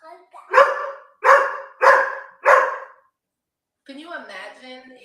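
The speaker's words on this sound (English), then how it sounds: "Oh, now the dog barking." A dog barks four times in a steady, loud series outdoors at a back door late at night, then falls quiet before a person starts talking.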